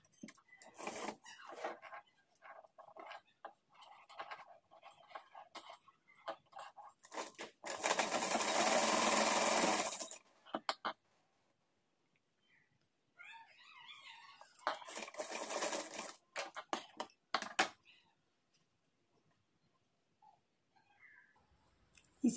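Sewing machine stitching folded cloth for a decorative latkan tassel, running in a steady whir of about two and a half seconds, then a longer broken stretch of stitching bursts, close and clear with soft handling clicks between.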